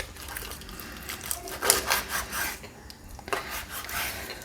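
A knife slicing through a whole chicken along the fat line, raspy rubbing and scraping strokes in short uneven bursts, close and moderately loud.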